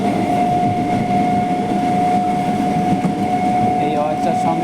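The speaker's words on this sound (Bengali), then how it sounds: "এই হচ্ছে আমাদের লোকাল ট্রেন" Night local train heard from inside the engine car, a loud continuous rumble and rattle of wheels and motor with a steady high whine running throughout, close and unbroken; some voice-like sound may mix in.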